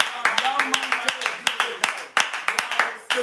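A church congregation claps along in a steady, rapid rhythm, the sharp claps layered over loud voices singing or calling out throughout.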